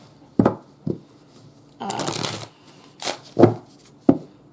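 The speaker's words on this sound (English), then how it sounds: "Last shuffle." Several quick bursts of cards being shuffled and riffled, close up, with a longer rustling cascade in the middle and no talking.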